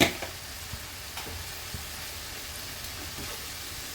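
Ground coriander and cumin frying in a pan for a restaurant-style mixed vegetable navaratna korma: a low, steady sizzle with soft scraping strokes now and then, heard alone.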